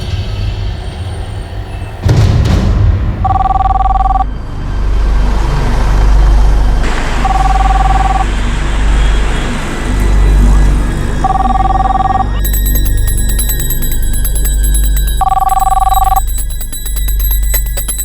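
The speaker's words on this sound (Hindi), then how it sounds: "कौशल, फोन तो उठा लेता ना।" A landline phone rings in repeated double bursts at a steady interval, loud over a low rumbling background.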